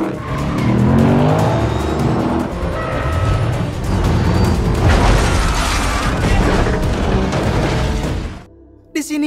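A car chases a container truck, engines roaring loudly and tires squealing, with crashing impacts and mechanical clatter throughout before an abrupt drop near the end.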